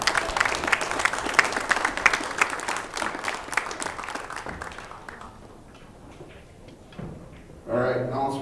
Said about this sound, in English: And how about a round of applause for Janet Atwell?